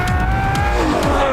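A Ferrari 812 with a naturally aspirated 6.5-litre V12 screaming at high revs, loud and near, with rising harmonic whine and quick gear-shift dips across a brief burst, no talking.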